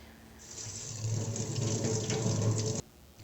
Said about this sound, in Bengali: ধুয়ে জল ঝরিয়ে নিতে হবে